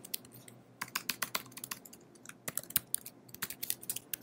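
Quick bursts of computer keyboard typing while a password is entered, crisp irregular key clicks in uneven clusters, close and clear with no talking.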